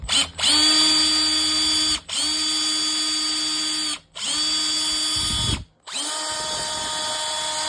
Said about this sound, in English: I will pre-drill a hole, hopefully in the center of this